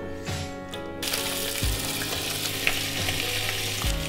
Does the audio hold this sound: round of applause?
no